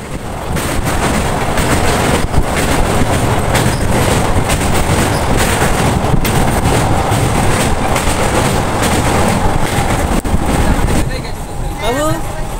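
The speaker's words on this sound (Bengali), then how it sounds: "সে এখন ট্রেনে যাচ্ছে" Inside a moving passenger train in West Bengal, the carriage gives a loud continuous rumble with rhythmic clacking of wheels on rails throughout, people chatting over it.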